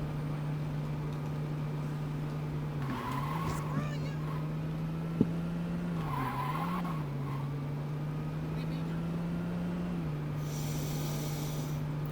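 A car in the Saints Row 2 video game hums with a steady engine drone throughout, with two brief tire squeals and a sharp knock breaking through the constant rumble.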